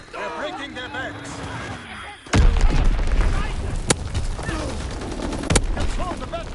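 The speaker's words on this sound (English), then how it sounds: "Enemy bomb incoming. Get to cover." Bomb explosions in the World War II shooter Call of Duty WW2, a sudden heavy boom followed by sustained rumbling blasts and sharp cracks, loud and close, with a voice talking over the start.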